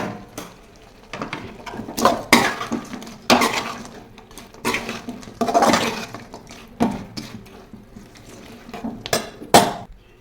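Gobi cauliflower pieces are tossed into thick masala in a pan, with irregular bursts of metal utensil clanks and scrapes against the pan separated by brief quieter gaps; no voices.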